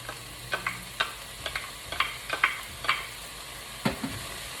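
Red and yellow peppers and scallions hit a hot pan, giving a series of short sizzling bursts and stirring scrapes, close and moderately loud, with no voices.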